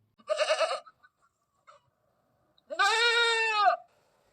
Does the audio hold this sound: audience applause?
no